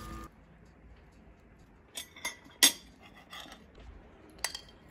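Baked apples come out of the oven, and dishes and metal clink against each other. A few soft, scattered knocks and chinks sound close by in a quiet kitchen.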